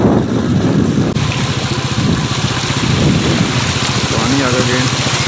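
Heavy rain pours steadily during the first rain of 2022, with thunder rumbling low beneath the downpour and faint voices talking in the background.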